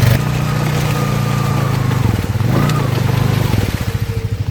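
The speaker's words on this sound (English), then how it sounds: "Hearing some grinding noises. I think the rear diff also needs some maintenance." Honda Foreman ATV on 32-inch Aztex tires, with a freshly rebuilt top end, driving with grinding from a worn rear differential: a close, steady engine drone that dips briefly midway, then picks back up and pulses toward the end.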